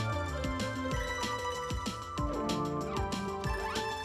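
A Samsung Galaxy Z Fold 3 powers on for the first time with a bright, layered electronic startup chime of rising and falling melodic tones, steady and clear with no talking over it.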